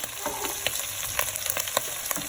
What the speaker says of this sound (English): you can hear how it's frying nicely, getting some golden color